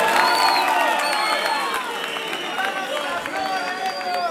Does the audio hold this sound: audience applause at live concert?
yes